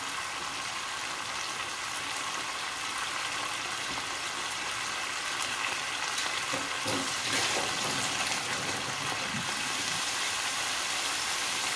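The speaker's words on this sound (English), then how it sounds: "And now we're going to add some water." Water poured into a cooking pan for sotanghon noodles with sardines, a steady broadband pouring wash running throughout, fairly loud and close, with no talking.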